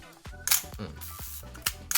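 Several sharp mechanical clicks from a Nikon FM2 film camera as its shutter is fired and the advance lever worked, crisp and close with short metallic snaps spaced through the span.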